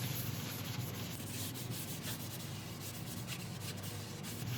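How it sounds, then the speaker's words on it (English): Cloth wiping over a turned wood surface with isopropyl alcohol to clear dust from the grain: a steady, close, soft rubbing hiss that carries on unbroken, with no talking. "I'm just going to give it a wipe over with isopropyl just to get all the dust out of the grain"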